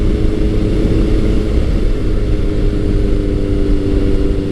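A Kawasaki ZRX1100 motorcycle engine runs steadily and loud throughout, a dense low rumble with a sustained droning tone, without distinct rev peaks, and no voices.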